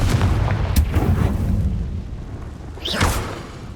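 A Confringo blasting spell explodes in the video game Hogwarts Legacy, a loud booming burst with rumbling low end that decays, followed by a second sharper blast near the end.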